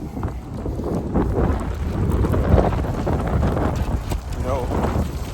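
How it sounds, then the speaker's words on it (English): Wind gusts roar across the microphone outdoors beside open water, a steady, loud low rumble that swells and buffets continuously throughout, with no clear talk. "it's like the wind through your hands"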